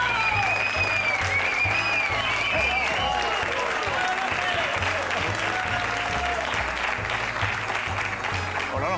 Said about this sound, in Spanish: Y a Onofre, un aplauso para ellos.